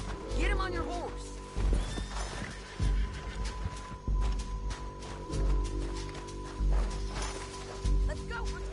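A horse in the Red Dead Redemption 2 video game lets out a shrill whinny at the start, followed by a steady rhythm of heavy galloping hoofbeats thudding on ground.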